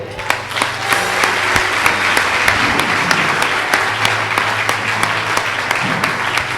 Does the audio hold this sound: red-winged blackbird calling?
no